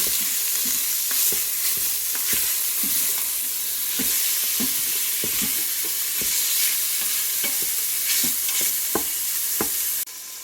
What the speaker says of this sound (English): I'm just going to put the beef in now, and then we're just going to brown that up a little wee bit